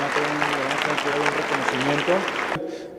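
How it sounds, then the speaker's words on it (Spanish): A conference audience applauding a speaker, a dense burst of clapping mixed with voices that stops abruptly near the end. "pido un fuerte aplauso"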